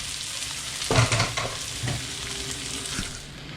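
Garlic, onion and ginger sauté in a pan for a Kapampangan duck kaldereta, giving a steady close sizzle with a few louder bursts and spoon scrapes as they are stirred.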